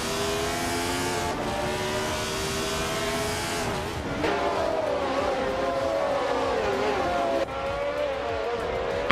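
A March 711 Ford race car engine screams at high revs, pitch rising and falling through gear changes as it accelerates and passes, loud and sustained with tire noise and other cars around.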